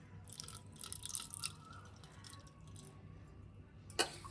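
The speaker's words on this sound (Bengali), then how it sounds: "প্রথমে হচ্ছে চরণে জল দেব, তারপরে কিন্তু মাথায়" Water is poured over the feet of a Radha Krishna idol during a daily ritual bath at home, giving soft, faint trickling and dripping that fades midway, with a sharp little knock near the end.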